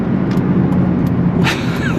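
An 8th-generation Honda Civic Si fitted with a K&N drop-in air filter runs hard with a loud, steady engine drone, held at high revs throughout with no talking.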